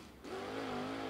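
Outlaw Late Model race car on the speedway at Carolina Speedway during qualifying, engine snarling loudly and steadily as it pulls off the corner, with a rising, sustained roar.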